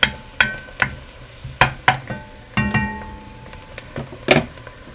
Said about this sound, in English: We're going to let the onions caramelize a bit.